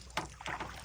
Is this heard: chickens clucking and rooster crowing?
no